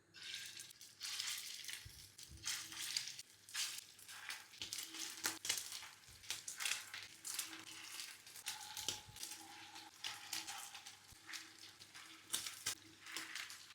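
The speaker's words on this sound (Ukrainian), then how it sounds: "На розігріту сковорідку додаю олію і обсмажуємо фрикадельки" Steady crackling sizzle of meatballs frying in hot oil in a pan, with occasional scraping and clinks, fairly quiet and continuous.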